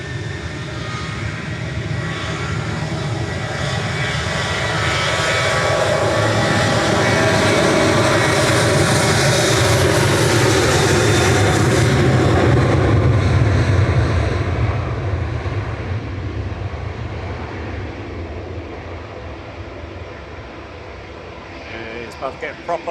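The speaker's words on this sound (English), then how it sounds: "Jet 2 departing now to Split." A Jet2 passenger plane departing Manchester Airport for Split roars as it passes, the engine noise swelling to a loud peak and then fading away as people talk nearby.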